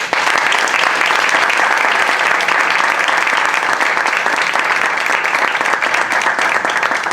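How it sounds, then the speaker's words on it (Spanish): An audience applauds a guest speaker at a science talk, thick continuous clapping that stays loud and steady for about seven seconds without any voices over it. "pues dar un aplauso a Lucy y las gracias"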